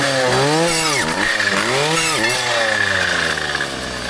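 A chainsaw fells trees during a brushcutting job in a forest, its engine droning steadily and loudly up close with rising and falling revs throughout.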